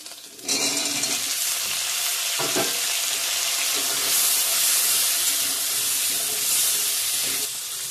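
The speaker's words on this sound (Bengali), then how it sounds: "এখন আলুগুলো দিয়ে দেবো।" Potatoes go into a pan of hot oil with fried onion, ginger and whole spices, setting off a sudden loud sizzle that holds steady and close with faint stirring scrapes.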